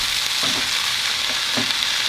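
Carrots sweat in a hot pan for a Moroccan chickpea stew, giving a steady broadband sizzle with a couple of soft stirring scrapes, close and fairly loud, and no voices.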